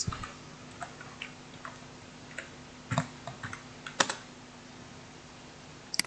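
Typing on a computer keyboard, sparse, close clicks at an uneven pace, with small clustered bursts of keystrokes and quiet gaps between them.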